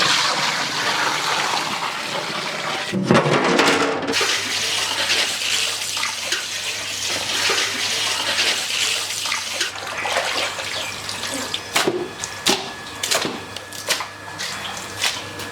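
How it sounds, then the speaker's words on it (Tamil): A heavy, continuous rush of 40 litres of water pours and splashes into a large biryani cooking pot, loud and steady throughout with some clattering near the end. "இந்த டைமில் 40 லிட்டர் தண்ணியை சேர்த்துக்கலாம்."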